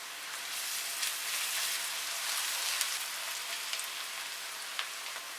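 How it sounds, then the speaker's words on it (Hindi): Ginger garlic paste frying with onions in a pan while making vegetable biryani gives a steady, dense sizzle like light rain, with occasional crackles and pops, and no talk. "अब इसमें अदरक लहसुन ऐड करेंगे और इसको भी हल्का सा भूनेंगे।"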